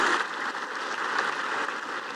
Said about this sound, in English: a really big round of applause this time around